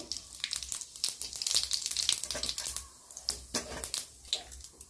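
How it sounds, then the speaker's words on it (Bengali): Dry red chillies and whole cumin seeds sizzling in hot oil for a meat curry, a dense crackling spatter with sharp popping bursts, close and steady throughout without any voices. "ফোড়নে দিয়ে দিচ্ছি দুটো শুকনো লঙ্কা, গোটা জিরে"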